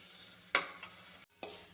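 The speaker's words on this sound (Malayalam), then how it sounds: "ഈ കുക്കറിലേക്ക് നെയ്യ് ചൂടാക്കി ഒരു സവാള കൂടി വഴറ്റുന്നത്" An onion sautéing in hot ghee in a pressure cooker makes a soft sizzle, broken by a couple of quick spoon scrapes in a short, quiet moment without talk.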